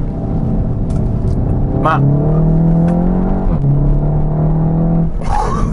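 A 2019 Seat Leon Cupra R with its 300 hp turbo engine revs up and settles, the engine note rising steadily then dropping before climbing again, loud and close, with someone talking briefly over it.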